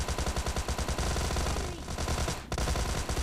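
Rapid automatic gunfire in PUBG Mobile Lite, probably a Thompson submachine gun, sounds as a dense, loud burst of shots that continues almost without pause, with only a brief gap.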